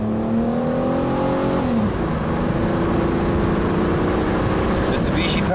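A Mitsubishi car with battery-light, stalling and no-start trouble is floored up a hill, its engine droning loud and steady with a strained, slightly rising tone, heard from inside the cabin.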